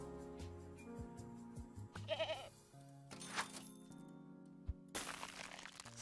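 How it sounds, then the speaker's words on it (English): Cartoonish goat bleat from the Super Auto Pets video game, a brief wavering bleat among short game clicks and cracking sound effects, faint overall. "Goat."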